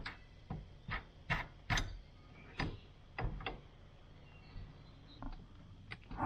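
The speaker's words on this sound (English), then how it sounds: "I'm going to thread it on now, and I'm going to compress that and get that snap ring out." Sharp metallic clicks and ticks from a lock plate compressor tool being threaded and tightened on the steering column of a 1991 Chevy truck, about a dozen irregular close taps with quiet gaps between.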